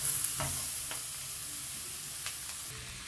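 Potatoes cooking with spices in a pot for Swahili mutton pilau, a steady close sizzle broken by a few sharp scrapes and taps of a stirring spoon.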